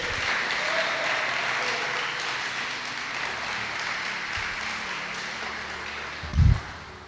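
Church congregation applauding during a festival worship service, a steady, broad wash of many hands clapping together that carries on evenly throughout, with a brief louder thump near the end.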